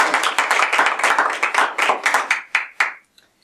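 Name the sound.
applause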